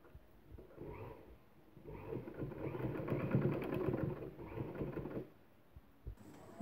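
A sewing machine joins the ends of a gown seam, a faint, soft whirring run of a few seconds that swells in the middle and then stops.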